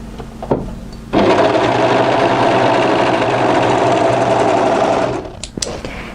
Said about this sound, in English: overlock through the short edge